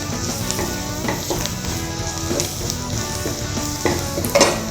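Garlic sautéing in a pan while chicken 65 is being prepared: a continuous close sizzle with irregular stirring scrapes and light knocks of a utensil against the pan, and a sharper clatter near the end.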